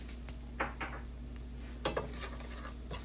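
Black pepper, cumin and turmeric toasting in a pan for a mixed vegetable soup, with a faint steady sizzle broken by a few light clinks and stirring scrapes of a utensil against the pan.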